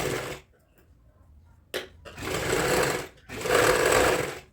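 A sewing machine stitches piping along a kurti edge in short runs: a brief burst, a pause, then two longer whirring stretches separated by a short stop, all close and alone.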